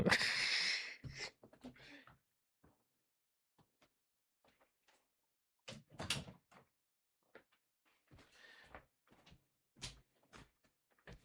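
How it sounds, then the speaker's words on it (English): A door swings and shuts with a solid thump, followed by quiet handling noises and a second knock-like bump a few seconds later. "I'm going to close the door."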